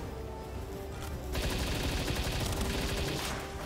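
Rapid automatic gunfire from a player's gun in the video game Palworld, a dense sustained burst of shots that swells louder after the first second and continues without pause.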